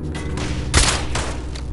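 Companion's gunfire in Fallout 76, a loud burst of shots centred in a short stretch against steady game background noise, with no talking.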